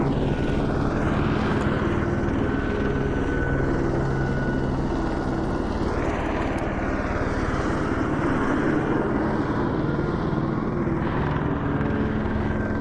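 A helicopter hovers and flies in the VR game Vertigo 2, its heavy rotor chop and engine hum loud and continuous, with gentle swells in pitch as it moves nearby.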